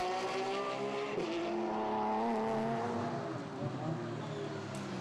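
Race cars at Zandvoort in a 2014 Belgian Racing Car Championship round, an Aston Martin and a Porsche battling closely, engines droning and shifting pitch as they pass, loud and steady for the whole stretch.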